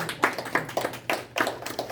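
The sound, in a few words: audience clapping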